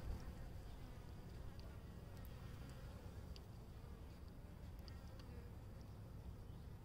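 Honeybees flying out of a hive in early March on a cool day, a faint, continuous buzzing drone of many wings near the hive, steady throughout with no voices.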